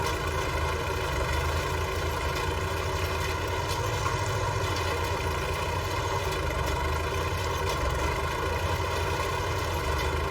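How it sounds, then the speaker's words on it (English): A tractor engine drilling winter wheat in a field in November 1965, a steady unbroken drone with a deep throbbing low end and humming tones, loud and constant throughout. "Now we can see the tractor properly again."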